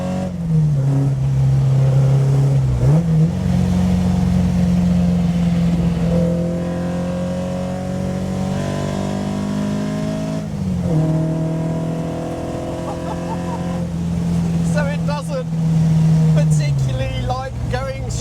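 An Alfa Romeo GTAm being driven, its engine droning steadily with rising and falling revs and gear changes, loud and close throughout, with someone talking over it.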